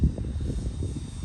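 An RC Carbon Cub model plane flies on a windy day, its small engine giving a steady, moderately loud drone that holds level throughout with light wind buffeting underneath.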